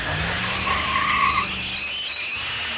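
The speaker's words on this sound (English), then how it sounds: "Rosie braked as hard as she could" Rosie the engine brakes hard into a skid, a loud sustained screech of wheels on rail that swells and then fades over a few seconds.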